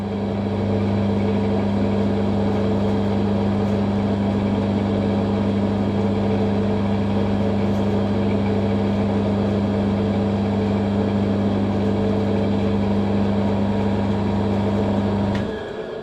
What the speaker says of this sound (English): So we're going to flip the lathe going backwards.